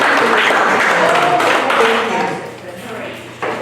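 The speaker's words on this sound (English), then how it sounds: "Can you have a round of applause for everyone who's here and for the training?" Steady crowd applause at an advanced training event fills most of the clip, loud and continuous, then thins out and fades toward the end.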